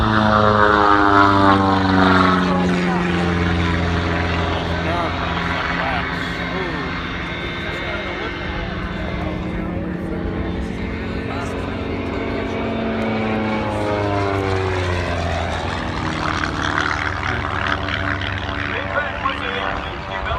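Propeller planes flying at the Cleveland National Airshow, a loud continuous droning roar with shifting pitch as aircraft pass close overhead, crowd talk faintly underneath.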